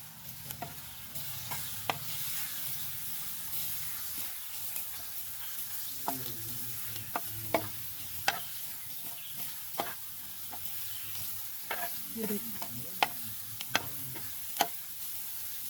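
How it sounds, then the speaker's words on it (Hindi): Whole spices are sautéed briefly in a pan for misala maghaz, with a low steady sizzle and repeated sharp spoon taps and scrapes at an uneven rhythm, close and fairly quiet. "ये जी हल्की सी भुनाई कर लेनी है आपने तमाम मसाला जात की 1 मिनट के लिए"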